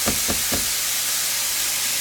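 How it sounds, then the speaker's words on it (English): Meat frying in a pan for stuffed Italian butternut squash, a steady close sizzle with a few quick stirring scrapes at the start, then continuous hissing with no talk. "So we're just cooking our meat a little bit."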